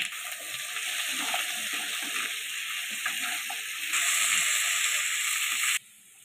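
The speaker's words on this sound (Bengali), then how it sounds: "আলুগুলো খুব ভালো করে ভেজে নিয়ে তুলে রাখবো।" Potato pieces fry in hot oil in a kadai, giving a steady broadband sizzle that continues unbroken and swells slightly louder near the end before cutting off, with no talk.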